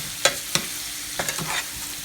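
Medium and jumbo shrimp fry in a pan for Tuscan shrimp sauce, a constant soft sizzle with a few sharper scrapes and clinks as they are stirred and turned.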